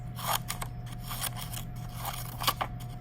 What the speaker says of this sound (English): If you take a long strip of green paper and cut it, I'm not cutting all the way through, I'm just cutting little lines.